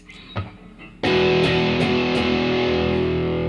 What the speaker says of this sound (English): if I have my distortion on